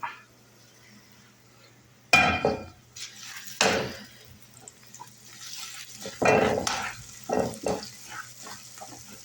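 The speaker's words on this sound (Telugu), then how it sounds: "ఇప్పుడు ఈ పోపును టమాటా పచ్చడిలో కలుపుతున్నాం" Spoon stirring hot tempering into tomato chutney in a pot, heard as several separate loud clattering bursts of scraping and knocking against the pan with quiet gaps between them.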